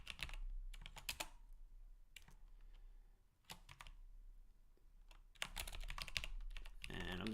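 Someone types code on a computer keyboard in short bursts of rapid clicking keystrokes separated by brief pauses, close and moderately quiet, with no talking.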